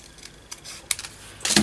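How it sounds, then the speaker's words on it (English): Paper being snipped shorter with scissors before inking, a few sharp separate cuts and clicks spaced apart at close range, ending in a louder burst of snipping. "So I'll snip it down now before I ink it"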